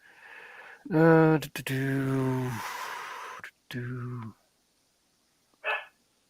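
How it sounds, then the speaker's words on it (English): Miley, a pet dog, lets out a few loud, close barks: a sharp bark, a longer drawn-out one, then another, followed after a pause by a short high yip, with quiet gaps in between. "And Miley's barking."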